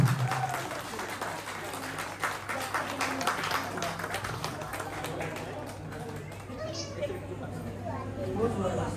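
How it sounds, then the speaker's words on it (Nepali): Sustained clapping from an audience at a Buddha Jayanti celebration held by a Tamang community group in Abu Dhabi, UAE. It holds steady for the whole stretch with voices and crowd chatter mixed in and a low hum underneath. "सबैजनाले उहाँलाई जोरदार तालीले स्वागत गरिदिनु हुन म विनम्र अनुरोध गर्दछु"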